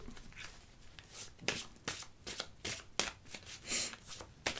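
Oracle cards being shuffled by hand in a quiet room, a rapid series of crisp riffling and slapping bursts that repeat irregularly, close and fairly clear with no talking.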